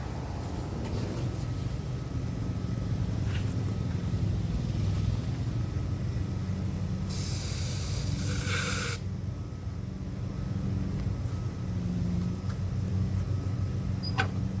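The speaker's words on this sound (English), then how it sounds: "Now it sounds like it's backfiring" An old lawnmower engine sputters and runs roughly as if backfiring, a continuous close mechanical chugging with a brief harsh hissing burst partway through.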